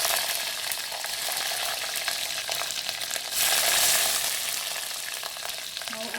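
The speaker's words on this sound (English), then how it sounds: "After it has spluttered, add the curry leaves. Add the garlic cloves." Curry leaves and garlic cloves frying in oil for a South Indian fish curry, a loud, continuous close sizzle and crackle that swells briefly midway, with light stirring.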